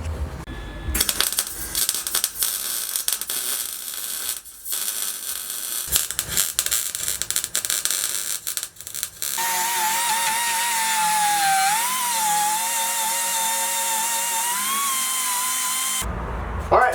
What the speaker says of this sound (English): Alright, let's weld it in.